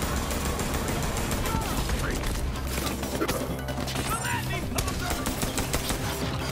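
A gun firing in Borderlands 3: steady, rapid shots and impacts at close range, running continuously under someone talking throughout.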